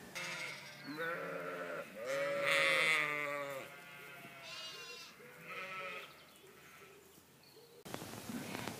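Ewes and lambs call back and forth in a field, the lambs from a few days to about five weeks old, with repeated wavering bleats of varied pitch, some close and loud, others fainter, over a light outdoor background.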